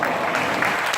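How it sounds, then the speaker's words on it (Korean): A room of young people at a church youth summer retreat breaks into applause, a dense, even wash of many clapping hands sustained without pause. "박수 쳐줍시다"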